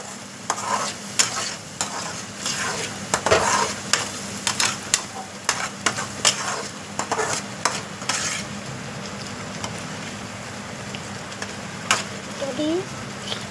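Cashews being stirred into a cooking mixture in a pan, repeated scraping and clattering strokes over a low sizzle, close, with occasional talking.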